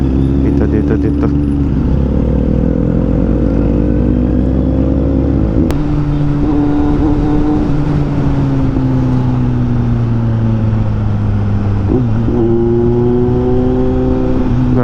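Motorcycles and tricycles pass on a busy street, engines droning and shifting pitch close by as they rev and go past, with people talking over the traffic.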